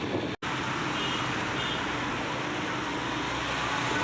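Night-time road traffic in Pune city, a dense continuous roar of passing vehicles and engines, close and steady, with a brief dropout near the start and no clear speech.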